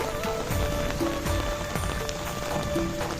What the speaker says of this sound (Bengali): প্রায় 6 বছর পর আজকে বৃষ্টি, এই যে ছাতা নিয়ে বৃষ্টিতে ভিজতেছি